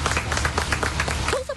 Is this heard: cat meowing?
no